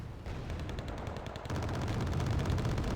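Sustained gunfire from units in the real-time strategy game Wargame: Red Dragon, dense rapid bursts of machine-gun and rifle shots that grow louder and heavier halfway through, continuous with no talk.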